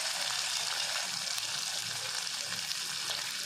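Marinated chicken 65 pieces fry in hot oil with a steady, close hiss and crackle of sizzling that holds at an even level for a few seconds.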